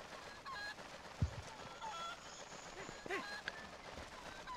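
Faint, scattered honks from a golden goose in the video game The Legend of Zelda: Twilight Princess, heard over a soft, steady game background.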